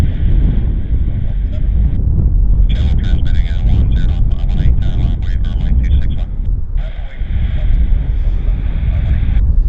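An airliner takes off from Vancouver Airport bound for Montreal, its steady broadband roar mixed with heavy wind buffeting on the microphone while people talk over it.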